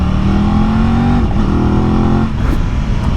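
A 2023 Aprilia RS660 motorcycle engine pulls hard under acceleration, loud and close, its steady roar rising in pitch, dipping briefly, then climbing again.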